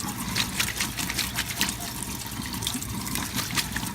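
Cactus pads rinsed under a running kitchen tap, a steady close splash and trickle of water over the pads with no talking.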